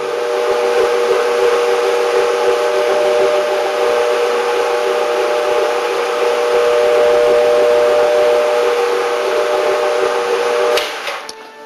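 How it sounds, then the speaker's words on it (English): A 175 RPM floor stripping machine fitted with a black strip pad drones steadily and loudly with a sustained mechanical hum, then tapers off near the end. "Now I'm stripping the floor using the 175 RPM machine, black strip pad, going in a forward motion side to side"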